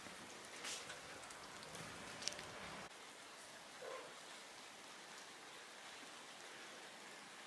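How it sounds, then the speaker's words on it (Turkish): Light drizzle falling over a village at dusk, a soft, steady hiss of fine raindrops spread evenly through the scene, faint and continuous with no voices. "çiseleyen bir yağmur var."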